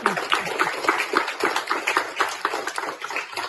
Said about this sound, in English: Oh, on applaudit vous-même